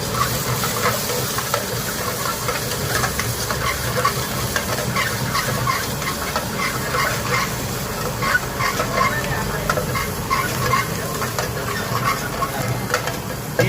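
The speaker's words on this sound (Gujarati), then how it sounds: "પંજાબી સબ્જી તૈયાર થાય છે જીરાનો અને એનો સરસ વઘાર આવ્યો છે" Cumin seeds crackle and hiss in hot oil, a busy sizzling with quick popping textures running throughout.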